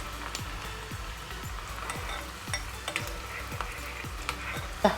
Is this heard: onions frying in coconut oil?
yes